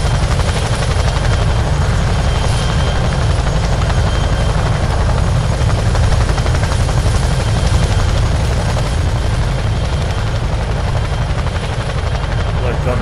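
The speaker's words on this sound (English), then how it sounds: "I knew I heard another helicopter. That's no audio bug." A helicopter in a 1966 Vietnam war game at Rung Sat thunders close and loud, its dense rotor roar steady and unbroken throughout.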